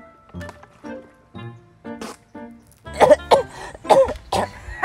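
Several harsh coughs and throat-clearing bursts from someone choking on fried chicken, close and loud, growing stronger in the second half, with short gasping sounds between them.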